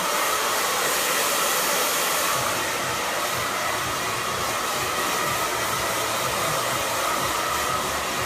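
A hair dryer blows hair in a salon styling session, a loud, steady airy roar that runs continuously at close range with no talking.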